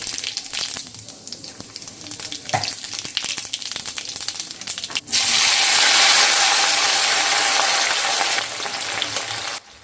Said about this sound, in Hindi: तो यहाँ लोहे की कढ़ाई में मैं बना रही थी आलू मेथी की सब्जी